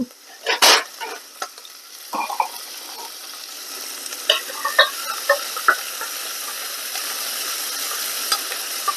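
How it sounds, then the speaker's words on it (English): Fresh tomato pizza sauce sizzles in olive oil in a pan while a spoon stirs it: a soft steady hiss with scattered scraping taps from the stirring, close and without speech. "we're just stirring to keep it from sticking"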